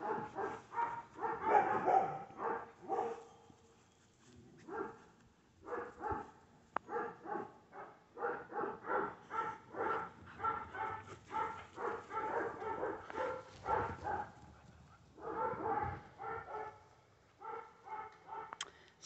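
Three rescue dogs playing in a yard, giving repeated excited barks, yips and short whimpers in quick irregular bursts, near and fairly loud with brief pauses between flurries.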